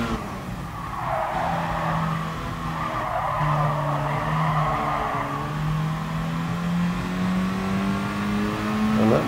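Race car engine droning and revving in the GT Sport racing game, with long tire skids and squeals throughout, loud and continuous with no talking.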